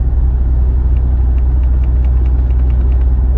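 A car cruising down a highway, with a steady, loud low engine and road rumble that holds constant throughout and a faint ticking sound above it.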